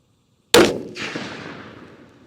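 A single sharp rifle shot from a Christensen Arms Mesa in .300 PRC, loud and close, followed by a long decaying echo rolling across an outdoor shooting range.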